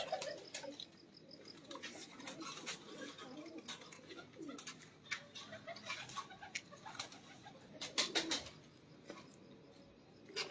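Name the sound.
pigeons cooing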